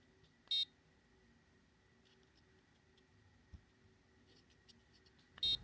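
A Meshtastic ThinkNode M1 off-grid radio board gives short, sharp notification beeps, one near the start and another at the end, separated by quiet ticking and faint room noise.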